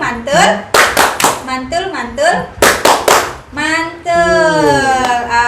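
A training group performs the "tepuk mantul" rhythmic clap: two short bursts of sharp, loud unison claps, each set inside a voiced chant from the group, ending in a long drawn-out call.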